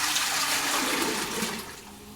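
Liquid poured into a pot for a fermentation brew, a steady loud splashing rush close by that slowly tapers off toward the end.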